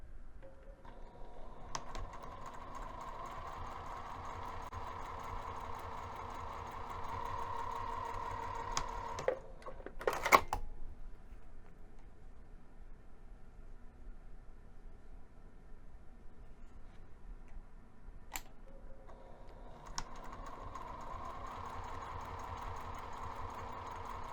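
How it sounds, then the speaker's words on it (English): A sewing machine hums in bursts of rapid stitching through cork fabric, pausing briefly in the middle with a few sharp clicks before running again. "we're going to take this over to the sewing machine"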